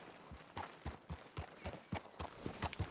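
Horse hooves clip-clopping at a steady walking rhythm in the video game Red Dead Redemption 2, about ten evenly spaced thuds, close and fairly quiet.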